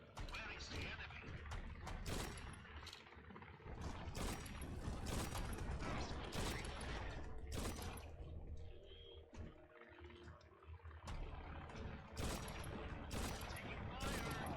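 Gunfire rattles through a video game battle set in 1949, with repeated bursts of shots and crackling volleys, fairly close, while radio-style voices speak over the fighting.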